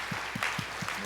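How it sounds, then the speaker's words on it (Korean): A church congregation at a Wednesday prayer meeting claps to welcome a visiting pastor: a brief, soft burst of quick, evenly spaced claps. "우리 한번요 박수로 한번"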